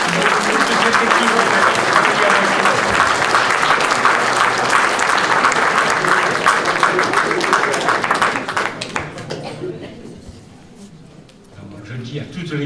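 A crowd at official speeches for the Chemins de l'art event in Gallargues-le-Montueux applauds an organizing team. The clapping is dense, sustained and loud, then fades out near the end.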